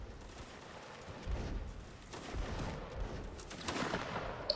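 Volley of musket fire from an infantry line in the game Mount and Blade Warband Napoleonic Wars, a dense crackling fusillade of overlapping shots at moderate, somewhat distant loudness, building over a few seconds with no talk.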